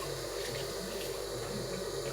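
Tap water pours steadily over fish being rinsed before smoking salmon, a loud continuous rush under the faucet with no voices throughout.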